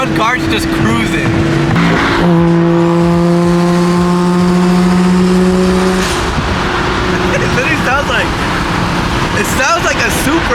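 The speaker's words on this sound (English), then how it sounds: "It sounds like a Supra, like it's crazy." A Toyota Supra cruising by in street traffic gives a loud, droning engine note that rises and holds with a strong harmonic whine, under mixed voices and surrounding road noise.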